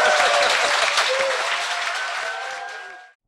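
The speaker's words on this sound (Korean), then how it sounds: "박수 부탁드립니다" A live studio audience at a Korean current-affairs talk show bursts into loud, dense applause that holds steady for about three seconds, then stops abruptly.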